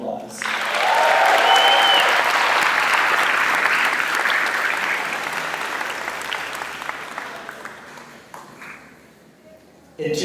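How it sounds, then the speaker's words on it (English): Crowd of graduates at the Saugus High School 2023 graduation ceremony applauds loudly, a sustained wash of clapping that swells early then slowly tapers off toward the end. "let's give ourselves another big round of applause"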